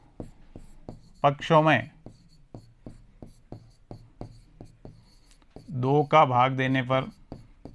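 Chalk or marker strokes on a board during a class 7 maths lesson on simple equations tap and scratch in a quick, regular series of short, close strokes, while a teacher speaks briefly twice over the writing.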